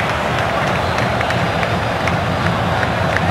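Palmeiras supporters celebrate in the stands of Palestra Itália during a 5-0 match against Ponte Preta, a dense, steady roar of crowd noise and cheering filling the stadium without a break.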